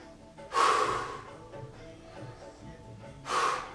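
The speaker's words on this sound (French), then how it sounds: "Soufflez avec énergie." Two forceful, energetic exhales during a yoga class, one around the half-second mark and another near the end, each a loud breathy rush of air separated by quieter breathing.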